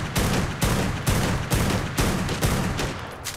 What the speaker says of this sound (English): Shotgun the mannequin.